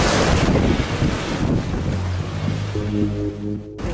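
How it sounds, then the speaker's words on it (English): A sailboat beats upwind through waves off Martinique in gusts above 20 knots, with roaring wind buffeting the microphone and water rushing and slapping along the hull, loud and continuous. "Wild Child is sailing straight into the wind."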